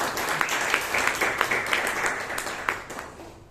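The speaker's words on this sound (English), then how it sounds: "But the job well done with a round of applause." Audience at a Toastmasters club meeting in Bangalore gives a round of applause, steady clapping from a room of people that fades toward the end.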